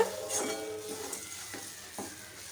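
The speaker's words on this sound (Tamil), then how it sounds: "தேங்காய் வந்து கொஞ்சம் கலர் மாறுற அளவுக்கு அதை வந்து நம்ம நல்லா வறுத்து எடுத்துக்கலாம்" Grated coconut roasting in a pan over a low flame, a soft dry sizzle with several separate stirring scrapes against the pan, close and fairly quiet.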